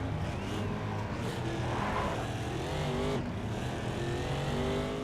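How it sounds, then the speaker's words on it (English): A Mustang race car in the PC racing game GRiD drones steadily through a turn, engine note shifting as other cars pass, with a continuous mid-level roar and no talk. "The car really carried a lot further through that turn than I thought it would have."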